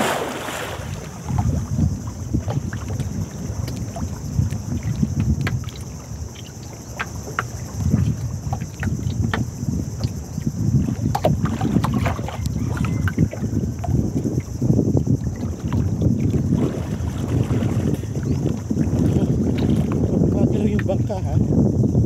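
A bangka boat moves across the sea, its low, rumbling churn mixed with constant wind buffeting the microphone, while the surroundings stay steady and close throughout.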